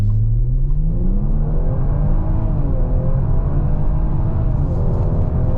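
A 2023 Kia Stinger GT2 twin-turbo AWD launching hard from a standstill, its engine note climbing steadily through a rising rumble with a gear shift partway, loud and close throughout.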